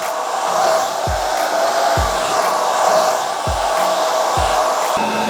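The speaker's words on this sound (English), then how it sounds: "So the front section, I'm going to blow dry this forward to get maximum lift into the hair." A hair dryer blow-drying the front section of hair forward for lift: a loud, steady, close whooshing roar with faint periodic low thumps as it is moved, and no speech.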